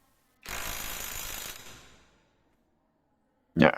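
Kepu 20V brushless impact driver with a low battery and an A3 socket, a loud buzzing run of about a second and a half that winds down, then a short burst starting again.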